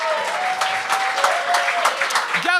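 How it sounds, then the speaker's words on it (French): Studio audience at a televised comedy talent show claps and cheers steadily and loudly for a moment, with a voice calling out over the applause near the end. "Applaudissez-vous."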